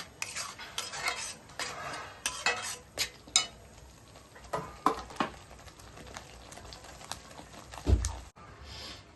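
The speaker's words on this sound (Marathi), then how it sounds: "आता हे छान तेल सुटेपर्यंत परतून घेऊया चांगलं." Onion, garlic and curry leaves sautéing in oil for spicy misal, with a spoon repeatedly clinking and scraping the pan over a faint sizzle in an irregular rhythm.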